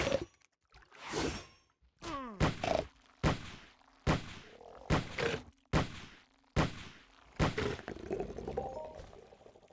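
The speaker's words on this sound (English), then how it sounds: "So what I'm doing is I hit him a few times with the sword, then I'll just use the pistol as a finisher." Sword strikes land on an enemy in a video game, a series of punchy thuds and cracks at an irregular pace, with whooshes and a faint steady game tone underneath, and no speech.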